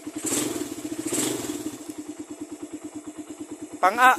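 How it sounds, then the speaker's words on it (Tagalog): Motorcycle engine in neutral, likely a small Filipino underbone, revving hard with a steady pulsing thrum that rises in pitch, closing with a sharp higher whine burst. "Ay naka-minor, naka-neutral. Isagad natin RPM."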